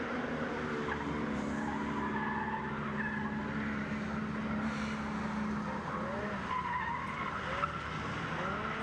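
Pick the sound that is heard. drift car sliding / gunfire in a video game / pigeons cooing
drift car sliding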